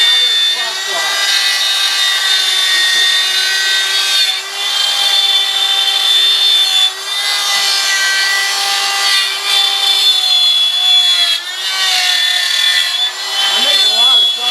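A power saw cutting Christmas tree shapes in wood, a loud continuous whine that dips briefly at a few points as the blade works through the board.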